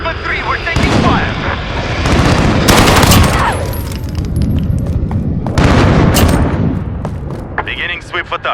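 Heavy gunfire and booming blasts in the Modern Warfare video game, hardcore team deathmatch, with dense machine-gun fusillades and artillery-like thuds rolling loudly throughout, and radio chatter mixed in.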